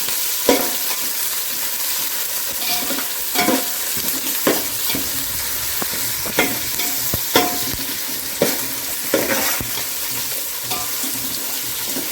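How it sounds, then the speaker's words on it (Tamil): Onions sauté in hot oil for chicken biryani, a steady sizzle broken by repeated stirring scrapes at a regular pace, close and fairly loud with no talk. "இதில் நம்ம இப்போ வெங்காயம் போட்டுடலாம் வந்து வதங்க வச்சு நம்ம நல்லா வதங்கிடலாம்"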